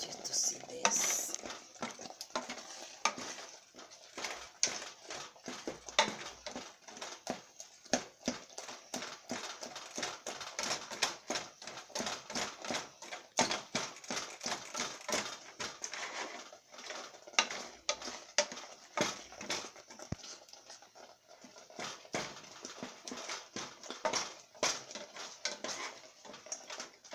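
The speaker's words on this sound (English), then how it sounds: "The reason why I keep stirring is because I don't want it to hold on the pot at the bottom" A spoon scrapes and taps steadily against a pot while homemade sugar-free strawberry jam is stirred, a continuous clattering rhythm heard up close, with speech now and then.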